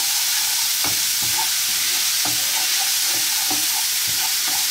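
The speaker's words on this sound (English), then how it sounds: "So what we're gonna do now is we're gonna add the garlic. Give it a quick toss." Minced garlic for veal piccata sizzles steadily in a hot pan, with several soft scraping and tossing strokes while it fries, close and fairly loud, with no talking.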